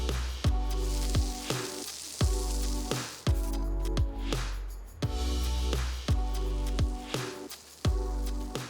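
Chicken pieces cooked yakitori style frying in a pan, a close, loud sizzle broken into repeated bursts about every second, each with a sharp popping onset that fades before the next.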